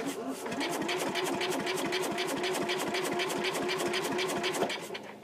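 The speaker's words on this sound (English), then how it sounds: "and we'll crank it. Try not to burn out the starter." A Sears Suburban garden tractor engine cranks over on its starter with a steady rapid chugging rhythm for several seconds, loud and close, with no clear catch into running.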